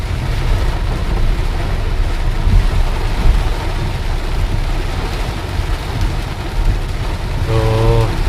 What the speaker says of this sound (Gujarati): વીજળી જબર પડે છે.